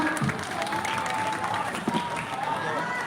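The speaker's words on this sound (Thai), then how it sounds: "เสียงปรบมือครับ" Applause at a temple fair at Wat Pradittharam (Wat Mon), a dense, continuous clapping from a gathered crowd with some background voices mixed in.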